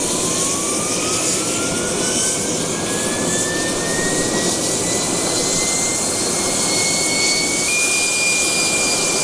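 Loud, steady roar of a Milviz T-38 Talon jet engine spinning up on the runway in Microsoft Flight Simulator, with a high whine that climbs in pitch throughout, no voices.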